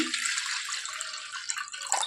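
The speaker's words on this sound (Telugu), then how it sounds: "దీంట్లోని ఫస్ట్ కొంచెం వాటర్ వేసుకోవాలి" Water is poured into a pressure cooker while making junnu, a steady hissing splash of liquid close by that ends with a brief clunk.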